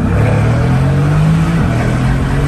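A car engine revs hard under acceleration, loud and close, with a sustained rising drone that drops briefly near the end before continuing; no talk.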